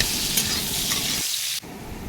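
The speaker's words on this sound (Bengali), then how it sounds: "এবার তেলের উপরে পেঁয়াজ কুচিগুলো দিয়ে দিলাম, দিয়ে বেশ কিছুক্ষণ নাড়াচাড়া করে নেব।" Chopped onions hitting hot oil and being stirred, producing a loud, dense, steady sizzle with scraping strokes, close up and without talking.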